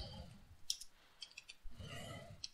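Typing on a computer keyboard, a few quiet, close key clicks scattered over a couple of seconds against a faint low hum.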